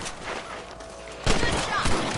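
Gunfire from Red Dead Redemption as rabbits are shot, with two sharp, loud reports about half a second apart over game background sound and faint character voices.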